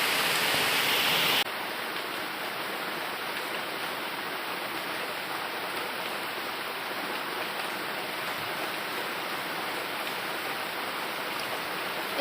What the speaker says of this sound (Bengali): দেখেছো কেমন বৃষ্টি পড়ে